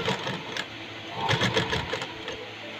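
Sewing machine stitching piping onto a boat neck blouse, a steady close motor whir with needle ticks, briefly louder in the middle and running throughout.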